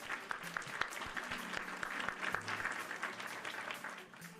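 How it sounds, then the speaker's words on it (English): A small group claps briefly, a fairly quiet patter of scattered hand claps that comes and goes at low volume for a few seconds. "Pranav, thanks for doing the applause on that, too"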